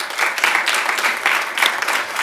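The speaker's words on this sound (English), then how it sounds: "So please, a round of applause for Arturo." A crowd applauds steadily at a talk introduction, a dense, even wash of many hands clapping throughout with no voices.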